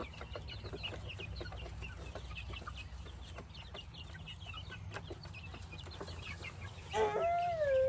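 Backyard chickens clucking at lunchtime, steady close murmuring clucks with a louder rising call near the end, no talking.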